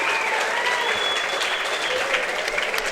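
A crowd at an MMA event applauds the fighters loudly and continuously, a dense wash of clapping with some cheering mixed in.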